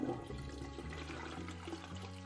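Game toilet in Toilet Flushing Simulator flushing, a steady rushing and swirling of water with a tonal hum beneath, close and continuous throughout.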